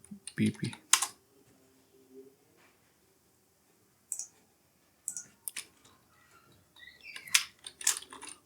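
Keyboard typing of C++ code in a Visual Studio Code editor: bursts of close, crisp key clicks arriving in irregular clusters separated by short quiet pauses.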